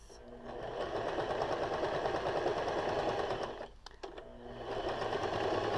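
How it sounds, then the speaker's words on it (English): Close, loud sewing machine stitching swimwear thong fabric in a steady whirring run, which pauses briefly with a few clicks and then resumes, with no talking. "And then I back stitched it."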